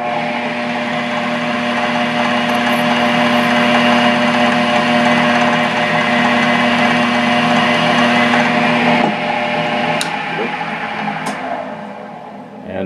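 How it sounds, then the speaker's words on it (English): A drill bores a hole in a Delrin HP barrel, its motor a steady high whine held loud and constant for about nine seconds before easing and tapering off, with a few faint clicks. "I'm going to drill another hole."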